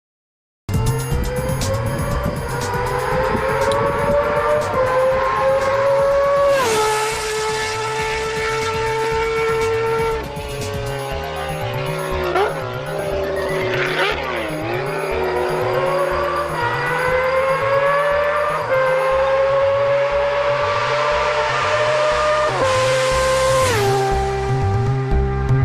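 An exotic vintage motorcycle engine runs loudly and steadily up close, revving up and down repeatedly with a throbbing idle between rises, the engine note climbing and falling several times alone without talk.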